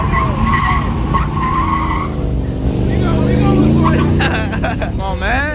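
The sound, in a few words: truck doing a burnout, tires squealing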